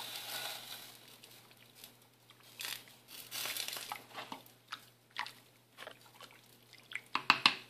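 A pot of menudo is stirred after salt and oregano go in, giving soft, irregular scraping and wet sloshing sounds, quiet and close, with a few sharper clinks at the end.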